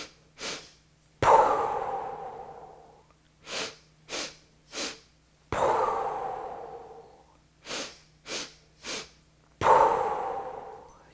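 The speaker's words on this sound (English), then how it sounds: "It's 3 sniffs and a pow." Yogic breathing technique done three times over: each round is three quick, sharp nasal sniffs followed by one long, forceful exhale that trails off. The breaths are close and clear with no talking.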